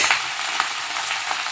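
Pumpkin and eggplant frying with sugar in a pan for a spicy Bhola fish curry, a steady close hiss of sizzling oil with faint stirring scrapes, no voices.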